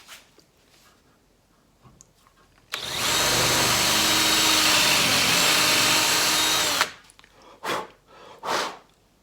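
A power drill runs steadily for about four seconds, boring a 9/64 bit into reclaimed wood, loud and close, followed by a few short clatters and bumps as it stops.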